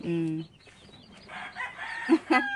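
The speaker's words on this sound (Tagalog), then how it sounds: "Kilala na ba niyo ba yung bantam na manok?" A small bantam rooster crows briefly at the start, followed by faint clucks and a couple of sharp, close bantam chicken calls near the end.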